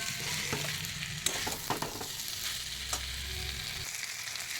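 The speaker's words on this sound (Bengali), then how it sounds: "তো চলো আমি ভালো করে নেড়ে তারপরে আমি জল দেবো।" Cauliflower fries in a pan while being stirred, a steady sizzle broken by scraping and clinking of the spoon against the pan, with no talk.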